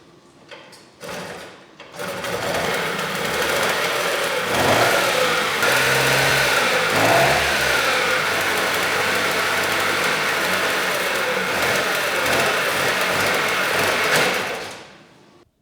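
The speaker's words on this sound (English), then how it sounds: "The moped is running again." A Puch 50cc moped engine, freshly rebuilt and refitted, starts up and runs steadily indoors, a loud, buzzing two-stroke drone that holds for over ten seconds before cutting off, with no voices.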